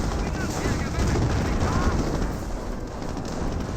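A Company of Heroes battle roars with steady gunfire, machine-gun rattle and explosions blending into a dense, continuous wash of combat noise, with a mortar half-track under fire and tanks nearby.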